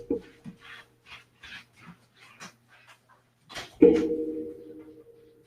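A dog pants softly in quick bursts and shuffles about nearby, then a louder rubbing, rumbling movement follows; no voices.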